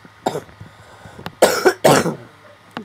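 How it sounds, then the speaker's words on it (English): Several close, harsh coughs: a short one early, a faint one near the middle, then two loud heavy bursts back to back, with no talking. "My cough is killing me."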